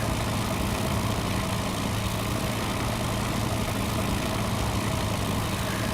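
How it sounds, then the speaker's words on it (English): Big air-cooled radial engine of a light training aircraft in flight, a continuous loud, even drone with dense rumble filling the whole stretch, steady without pauses. "This is a big air-cooled radial engine."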